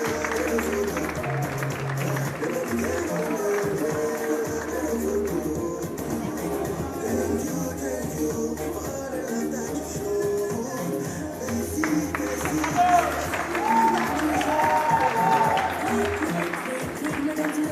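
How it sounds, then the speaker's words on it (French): An audience applauds fashion designer Mel Création with steady, sustained clapping and crowd noise, while voices and some music play over it. "Des applaudissements pour Mel Création"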